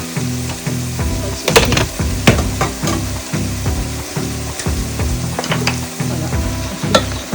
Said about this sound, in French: Fait revenir donc, afin de caraméliser nos oignons et nos raisins